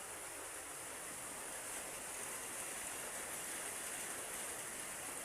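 Steady hiss of rain falling, even and continuous with no pauses, fairly faint and with no voices.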